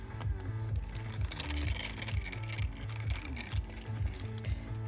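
A screwdriver drives tiny screws back into an iPhone 6s Plus during a charging port repair, giving steady rhythmic mechanical clicking and ratcheting close up.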